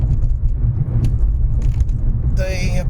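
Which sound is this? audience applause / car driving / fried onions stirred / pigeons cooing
car driving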